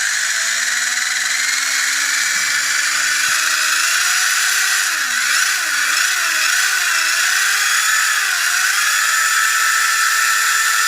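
An electric motor in a Subotech Brave 1:22-scale RC buggy whines loud and steady, its pitch rising gradually and then wavering up and down as the throttle is worked, with no voices present.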